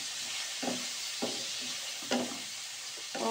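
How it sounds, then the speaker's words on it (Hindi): Spiced masala with garlic-ginger paste and yogurt being stirred and fried in a pan: a soft sizzling bed with several separate scraping stirs, fairly quiet and close, with no talking. "और अच्छे से इसकी भुनाई करनी है"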